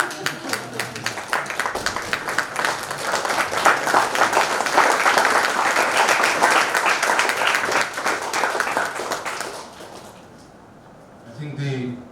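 Room-wide applause for a speaker being introduced at a talk on personal branding, dense steady clapping for about ten seconds before fading, followed by a short burst of voices.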